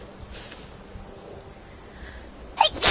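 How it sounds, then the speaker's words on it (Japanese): A young Japanese woman lets out a single sharp sneeze close to the microphone near the end, after a stretch of quiet room tone. "マジでごめん、今日本当にくしゃみが止まらない日だ。"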